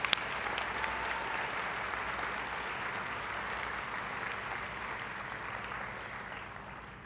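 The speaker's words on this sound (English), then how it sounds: "Let's give them another round of applause." Sustained audience applause at a student academic excellence awards ceremony, a dense, even wash of clapping from a large crowd that holds steady for about seven seconds and tapers slightly at the end.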